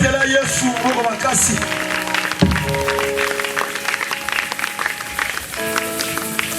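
A church congregation acclaiming the Lord with scattered clapping and cheering voices, a lively crowd of applause and shouts mixed with musical tones and an amplified voice.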